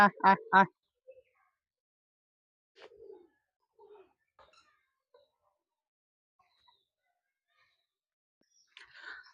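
Chinese ducks give a quick burst of three loud quacks at the start, and a few fainter, scattered calls and rustles follow in an otherwise quiet farm setting.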